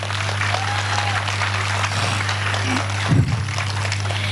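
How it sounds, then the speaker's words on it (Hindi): Audience at a Hindi hasya kavi sammelan poetry gathering claps in a steady, sustained wash of applause, with a brief voice and a low hum underneath. "एक बार जरा जोरदार तालियां बजाइए आप लोग।"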